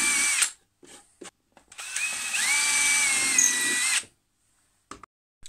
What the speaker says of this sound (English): we're going to drill two holes to take these wires into the base